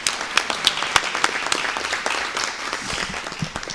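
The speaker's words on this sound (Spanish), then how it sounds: "Un aplauso para el ministro." Applause from a live audience welcoming a minister at a conference event, a short burst of dense clapping close and loud throughout.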